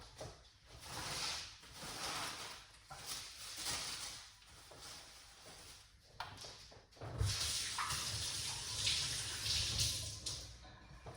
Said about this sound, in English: Wash your ingredients.